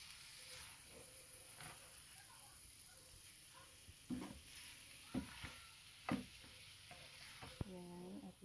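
Tofu for sisig sizzles in a hot pan while it is stirred, a soft steady frying hiss broken by several scraping and clattering strokes of the utensil.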